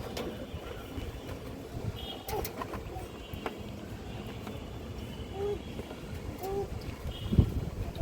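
Pigeons at a pigeon farm give a few soft, low coos amid a busy background of rustling, clattering and general noise.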